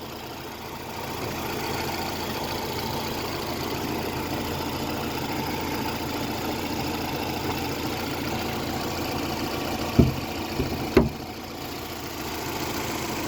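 A Fiat Marea with a 1.6-litre 16-valve petrol engine idles steadily and evenly, a close, continuous low hum with no speech, broken near the end by two short sharp knocks.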